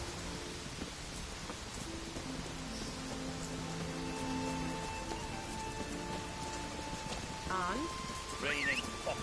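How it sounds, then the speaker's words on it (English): Heavy rain falls steadily in The Witcher 3 as a continuous, even hiss, with tonal game sounds and occasional voices layered over it, and a horse's hoof sounds faintly present. "Raining fucking buckets."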